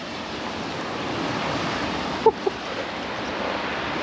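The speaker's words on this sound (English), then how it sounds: "You can see the water's running down this way" Steady rushing of rainwater running through a farm ditch flows continuously, broadband and even, with a couple of brief knocks partway through.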